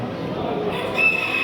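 A show rooster crows at a poultry fair, loud and close, in one short call rising above the hall's background noise.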